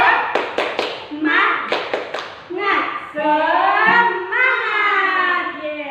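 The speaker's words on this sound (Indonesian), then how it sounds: "Tepuk semangat." A class of children doing a rhythmic spirit clap chant led by their teacher, with sharp patterned handclaps in quick groups followed by voices chanting together in a drawn-out sing-song line, close and clear.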